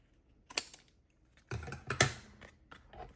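Scissors cutting off the bottom piece of a craft material, a few sharp close snips and crisp crunching cuts in quick bursts within a quiet room.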